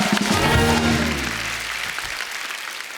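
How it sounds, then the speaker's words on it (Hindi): Loud studio audience applause and cheering erupts at a TV comedy talk show, swelling at first and then gradually fading. "जोरदार तालियां कंगना के लिए।"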